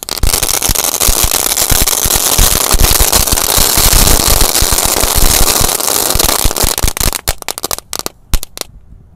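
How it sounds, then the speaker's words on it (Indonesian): A dense, rapid string of loud "telur dino" firecracker bangs crackling nonstop, thinning into a few scattered pops before falling silent. "Lanjut kita nyalakan, ini ada mercon telur dino pretek."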